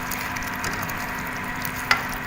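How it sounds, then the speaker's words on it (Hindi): Garlic sizzles and fries with spices in a pan for a chicken dish, a steady close hiss with a brief scrape of stirring near the end. "अब हम इसमें ये थोम डालते हैं, 1 मिनट तक इसको भूनते हैं"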